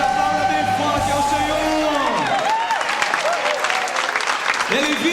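A church congregation applauds during a worship service, steady clapping and crowd noise with cheering, alongside sung or amplified music and voices.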